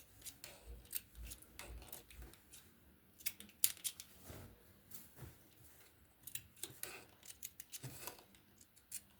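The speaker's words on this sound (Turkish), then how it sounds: "Şimdi bunlara çıt atıyoruz aralıklarla ki çevirince rahatça çevirebilelim düzgün dursun yastığımız." Scissors snip notches into the fabric of a nursing pillow, a series of sharp, close metallic cuts in irregular bursts over a quiet room.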